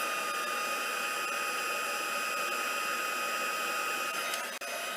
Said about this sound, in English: So I can add that heat tool again to that bloom